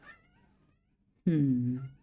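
A house cat gives one loud, close meow after a quiet stretch, preceded by a faint voice.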